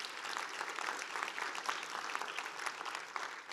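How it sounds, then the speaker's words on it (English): An audience at an event unveiling Tarleton State Fort Worth's master plan claps for Trinity Metro, a continuous, fairly faint patter of many hands heard from a distance. "Let's give another round of applause to Trinity Metro."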